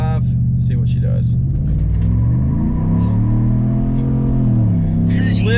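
A truck engine builds power and launches in two-wheel drive, loud and close. It holds a deep rumbling idle-rev, then the pitch sweeps and climbs through the gears as it accelerates hard.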